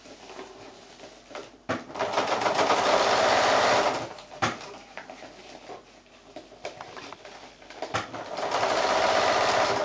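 Sewing machine stitching PVC coated oilcloth fabric for a small shopping bag, running in several close bursts of rapid mechanical chatter with short pauses between runs.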